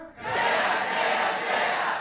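A room of high school students at a workshop shout a group yell cheer together, a loud sustained chorus of voices rising abruptly and holding steady for about two seconds.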